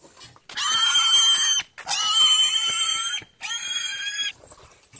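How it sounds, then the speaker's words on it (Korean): A pig eating a dog chew, loud close-up grunting and squealing bursts in three long stretches with short pauses between, with no speech. "돼지가 개 껌 먹는 게 신기하다고?"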